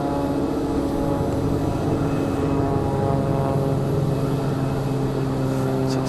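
Small general aviation propeller plane taking off at Raleigh-Durham, a steady droning engine with a buzzing harmonic hum, held at even loudness and moderately close.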